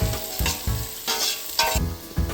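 Onions frying in a pan for chicken biryani, stirred until soft and golden brown: a steady close sizzle with repeated scraping stirs in quick bursts, no voices.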